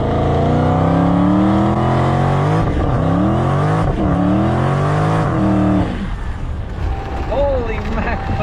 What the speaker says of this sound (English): Now you're going to do your burnout